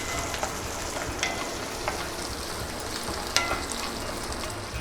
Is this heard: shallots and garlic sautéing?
yes